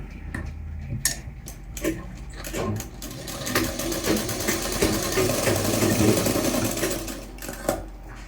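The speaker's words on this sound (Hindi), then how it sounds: "और इसको हम यहाँ से सिलाई लगा देंगे।" Sewing machine stitching a lined kurta, a steady mechanical whir running almost continuously with a few faint clicks and knocks, moderately close and with no talking.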